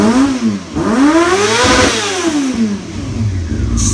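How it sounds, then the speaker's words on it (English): A Yamaha R6 sport motorcycle engine, with a hesitation fault when climbing revs, revs up, dips and climbs again in loud, close sweeping pulls, with no talking over it. "Now let's see if it does this rev thing."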